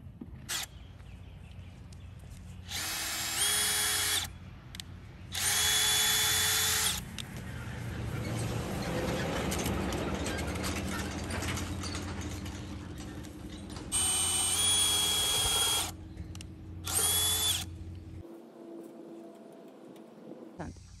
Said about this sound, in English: I'm just going to use a drill.